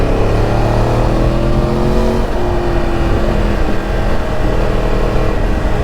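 A Yamaha R1 Crossplane 1000cc inline-four motorcycle is ridden through city traffic, its engine a loud, continuous drone with slowly shifting tones under steady wind rush.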